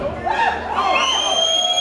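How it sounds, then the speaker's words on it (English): A rock concert crowd aboard the MSC Divina cruise ship during the Monsters of Rock Cruise cheers and whoops loudly, a dense mass of voices with shouts and whistles rising over it. "Oh man, this crowd is amazing."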